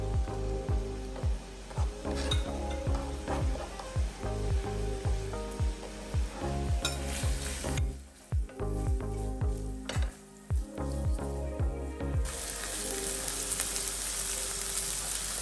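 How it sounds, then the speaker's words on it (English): Onions and garlic frying in olive oil for a shepherd's pie, a steady close sizzle broken by repeated clattering stirring strokes, loud throughout with no voices. "Olive oil in. Going in with the onions and garlic."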